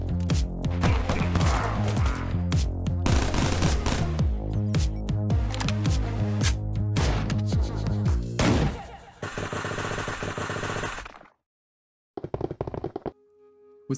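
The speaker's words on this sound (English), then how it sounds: "Players can craft and modify over 30 guns with attachments and scopes to make their perfect gun to use against mobs or other players." Guns from the Timeless and Classics mod fire in Minecraft (Forge 1.16.5), with dense rapid bursts of gunfire over a steady layered background, then separate short volleys with gaps of silence near the end; no one talks.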